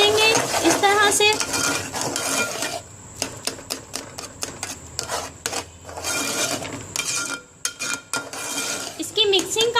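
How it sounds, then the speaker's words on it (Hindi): Rice flour dough for anarsa being mixed fast in a bowl, with quick rapid clinks and scrapes of a utensil against the bowl in bursts, fairly close and loud, no talking. "अब मैं इसमें मज़ीद आटा ऐड कर रही हूँ चावलों का। और इसको बहुत तेज़ी से मिक्स करेंगे इस तरह से।"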